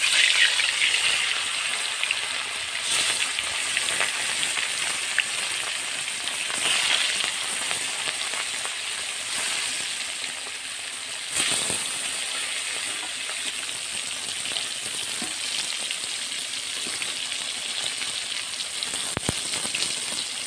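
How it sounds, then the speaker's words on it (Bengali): Pieces of katla fish fry in hot oil, a steady dense sizzle and crackle that holds for the whole stretch with no voice over it. "এবার মাছগুলো ভেজে নেব।"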